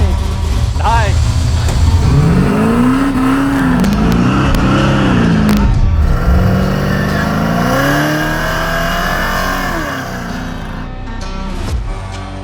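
A custom-built engine in an El Camino revs hard and steadily, with rising and falling pitch sweeps, while people talk over it nearby.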